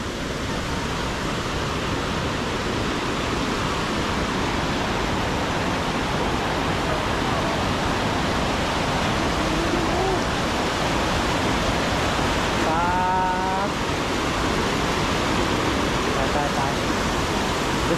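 The Tad Kuang Si waterfall in Laos gives a loud, steady broadband roar of rushing, falling water that fills the whole stretch evenly, with a brief whistle-like chirp partway through.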